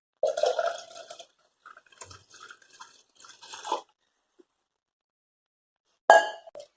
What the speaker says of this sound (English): Now we'll add around 2 to 3 glasses of water to this bowl.